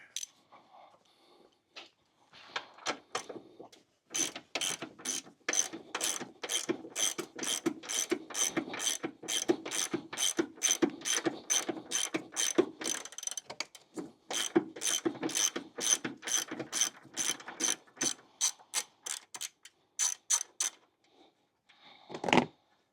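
On a Dodge Journey, a ratchet wrench loosens the 15 mm nut on a battery terminal tucked in the wheel well, making long runs of rapid, crisp clicks close up, with brief pauses between strokes and no speech.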